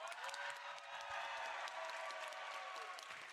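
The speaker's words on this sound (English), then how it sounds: "Can we get another cheer for Poundy, please?" Crowd at a LAN watch party for a World Championships event, cheering and applauding loudly, a dense wash of clapping and voices that holds steady from start to finish.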